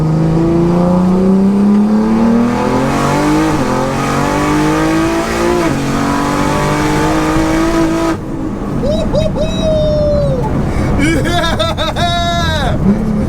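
A 1400bhp BMW launching hard and pulling through third and fourth gear, its engine a loud, close, rising roar with a brief dip at each shift, followed by high-pitched revving; excited voices talk over it.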